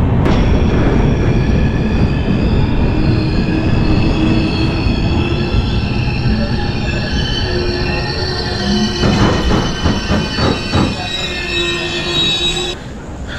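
Passenger train on the Digha to Howrah line rolling into Tamluk railway station, with steady loud rumble of railcars, wheels squealing and rail clatter throughout, brake squeal and clanks rising near the end as it slows.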